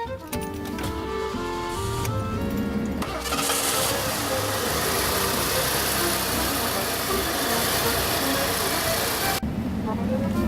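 A 1988 Lincoln Town Car engine cranks for a few seconds, catches, and settles into a steady rumbling idle, with brief talk at the start.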